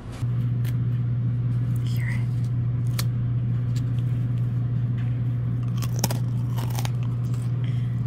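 Someone bites and chews a crispy homemade cracker from a freshly baked batch, several sharp close crunches scattered over a steady low hum, with faint whispery sounds between bites.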